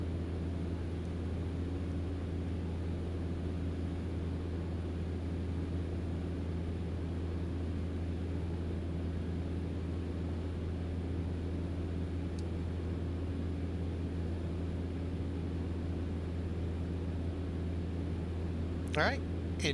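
Cabin of a Cessna Caravan in flight between Puerto Rico and St Thomas: a steady, loud low engine and propeller drone with constant airflow hiss, unchanging throughout, and a brief voice near the end.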